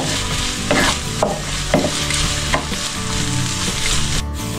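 Onions and carrots stir-fried for japchae give a loud, continuous sizzle close up, with a few rhythmic scraping stirs of a utensil and no speech.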